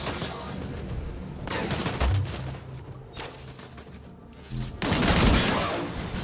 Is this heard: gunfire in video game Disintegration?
yes